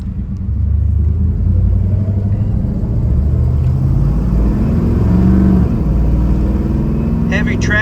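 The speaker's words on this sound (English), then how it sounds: "This is the 1972 Chevrolet Nova. Taking her for a test drive." A 1972 Chevrolet Nova SS on a test drive, its engine a loud, steady low rumble from inside the car, holding a constant drone with a slight swell in revs near the end.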